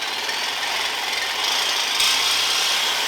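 A saw cuts through the muffler of a Mercedes supercar, a loud, continuous, gritty rasp close by that grows slightly harsher partway through, with no talk.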